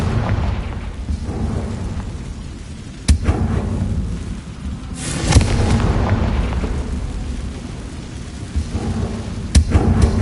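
A Confringo explosive spell in Hogwarts Legacy, heard as deep rumbling booms with a couple of sharp bursts over a steady low roar, loud and close, no speech.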